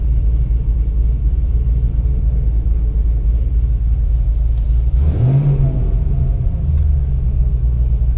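Fifth-generation Chevrolet Camaro engine idling with a steady low rumble, a brief rev swelling and dropping back midway.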